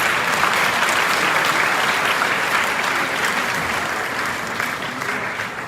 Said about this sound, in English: Yeah, you can clap at that one.